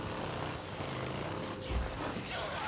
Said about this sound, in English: And a helicopter.